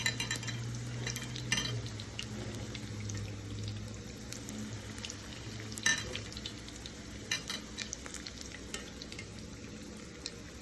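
Crab rangoon egg rolls made with wonton wrappers bubble and sizzle in hot frying oil, a soft steady crackle with occasional clinks of a utensil, fairly quiet and with no voices.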